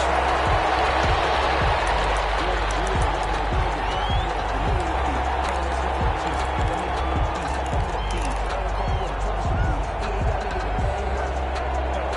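Stadium crowd noise in an American football video game, Green Bay Packers versus Minnesota Vikings, a steady dense roar of spectators with scattered claps and cheers running the whole time, with faint talk over it.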